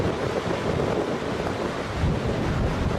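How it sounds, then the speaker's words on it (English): Strong wind roars continuously while waves crash and churn near homes, a dense, loud wash of noise with no voices. "High winds and waves crash near homes."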